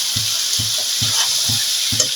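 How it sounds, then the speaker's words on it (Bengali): Vegetables being stirred into fish oil in a hot frying pan, a steady loud sizzle with rhythmic scraping strokes of a spatula about twice a second, close up with no talking. "এইভাবে সবজির সাথে মাছের তেলটা আর যতটা পারবো মিশিয়ে দিচ্ছি।"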